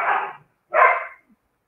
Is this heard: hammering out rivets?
no